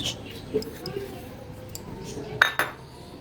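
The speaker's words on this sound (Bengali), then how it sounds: "সব ভালোভাবে আমি মিক্সড করে নেব এগুলো দিয়ে।" Thekua ingredients are stirred in a bowl with a spoon, giving soft, intermittent clinks and scrapes under a quiet kitchen background, with a sharper clink near the end.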